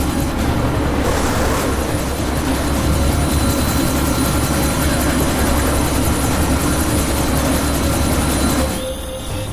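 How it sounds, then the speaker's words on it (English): Helicopter taking off in Deus Ex: Mankind Divided, a loud steady rotor and engine roar filling the scene nearly throughout before dropping off at the very end. "That chopper's about to take off!"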